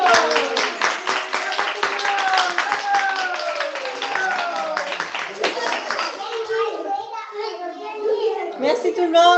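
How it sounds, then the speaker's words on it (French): An audience claps at a project launch at a university, with scattered clapping running under lively voices, including children's, before the clapping thins out and the talk carries on. "On applaudit, on dit bravo!"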